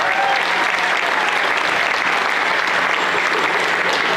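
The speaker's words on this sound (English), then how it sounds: "So if you could give them a round of applause for this too." An audience at a school fall band concert applauds. Dense, loud, continuous clapping from many hands, a steady wash of sound with no pauses throughout.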